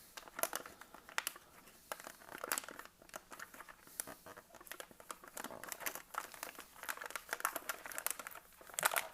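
A plastic MRE pouch for a cold-weather scrambled-eggs meal is zipped shut and crinkled, giving quiet, irregular crackles and rustles that come in bursts, close by with no voices.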